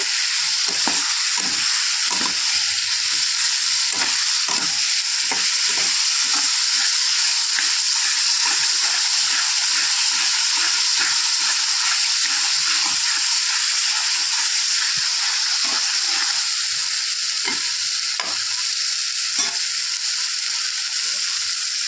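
Mushrooms sizzle and fry in a spice paste in a pan, a steady bright hiss throughout with repeated scraping and stirring knocks from a spoon, close and continuous over twenty seconds without speech.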